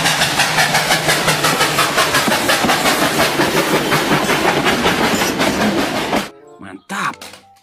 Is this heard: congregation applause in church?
no